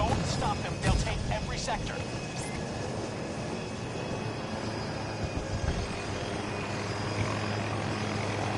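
A hybrid jet-helicopter in Battlefield 2042 drones with a loud continuous engine roar and rotor wash, a few sharp gunfire-like bursts early on, with a voice talking over it.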